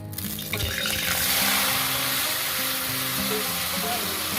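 Fish frying in hot oil with potato and onion, a loud continuous sizzle and hiss that swells after the first half second and holds steady, with no talk.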